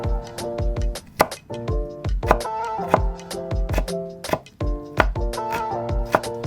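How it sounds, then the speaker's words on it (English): Knife chopping and dicing carrot into small matchstick pieces, a steady run of sharp, close taps on a board, clustered in quick bursts with brief pauses. "I shaved the carrot before chopping it into small matchstick pieces and dicing it as well."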